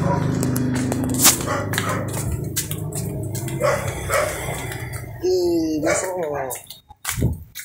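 A household dog barks and yips several times at close range, mixed in with people talking and moving around it, with a louder bark near the end.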